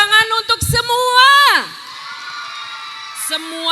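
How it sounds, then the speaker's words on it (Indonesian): A loud crowd, mostly children's voices, cheers and whoops close by for performers at a Langen Carito festival in Bantul district. A long shout rises and falls, then the noise drops to a murmur with a few short cries. "tepuk tangan untuk semua"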